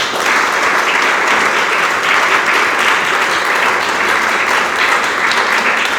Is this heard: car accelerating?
no